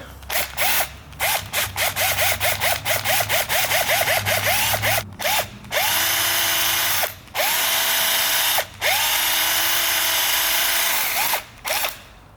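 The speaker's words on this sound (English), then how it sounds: "I'm actually just gonna throw it in the impact. Put a little Scotch-Brite on it." Impact driver spinning a dirty, gritty car part wrapped in Scotch-Brite, a loud continuous whirring buzz with rapid hammering clatter, broken by short pauses where the trigger is released and restarted, no voices.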